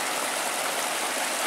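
Heavy water gushing steadily from a 20 HP electric tube well pump with a 6-inch delivery outlet, a constant broadband rushing roar close by with no speech.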